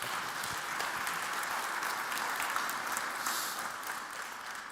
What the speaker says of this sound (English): so applause is welcome.